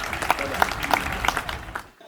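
Audience at a Hindi comedy and satire poetry gathering breaks into applause, a dense patter of clapping that holds steady, then fades out quickly at the end.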